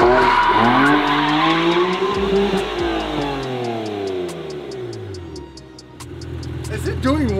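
A fake Lamborghini SV replica (gated six-speed LP640 copy) spins one tire, producing a long, loud, wavering tire squeal with engine revving beneath it, while people talk over the noise.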